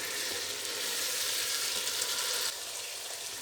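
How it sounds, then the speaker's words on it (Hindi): Minced meat sizzles in ghee and masala for Punjabi-style aloo keema, a constant, fairly quiet hiss that dips slightly in level partway through, with no voices. "कीमे को डाल के तकरीबन 2-3 मिनट इसको भुनेंगे"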